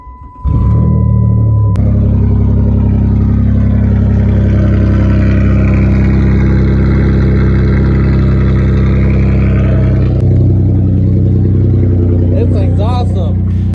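Minivan engine starting and idling with its exhaust system removed, a loud, raw, deep rumble that holds steady for about ten seconds before a brief rev and some rattling.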